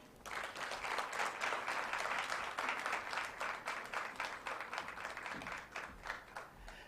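A crowd at a 16 Days of Activism Against Gender-Based Violence event applauds after a speech, with steady, dense clapping that holds for several seconds and then thins slightly toward the end.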